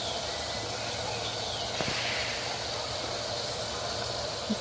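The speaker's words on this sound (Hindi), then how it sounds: "ये देखिए जी अभी हमारी हांडी बन रही है" Chicken makhni handi cooking in a pot, a soft, steady hiss and faint simmer with a brief light clink near the middle and another at the end.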